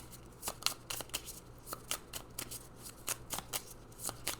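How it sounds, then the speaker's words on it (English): Angel oracle cards being handled and shuffled alone, a quick series of crisp riffling snaps and soft slides coming in irregular bursts, close and fairly quiet. "I'm going to pull some of these angel cards to see what message the angels are leaving us with today"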